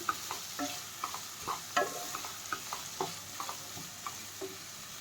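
Spaghetti stirred in a pan over a high flame, with repeated quick scrapes and clinks of the utensil over a light sizzle, close and fairly quiet.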